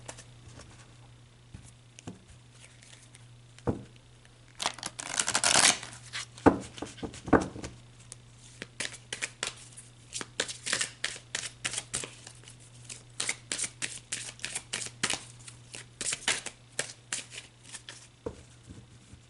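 A deck of oracle cards is shuffled by hand in close, crisp bursts of riffling and slapping, starting sparse and then running in quick repeated rounds over a faint steady electrical hum, with no one speaking.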